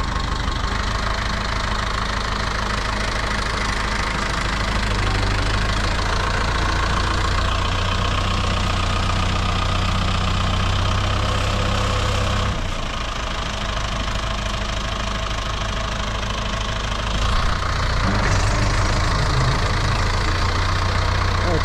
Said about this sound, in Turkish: Kendi çapında gerçekten çok güzel bir traktör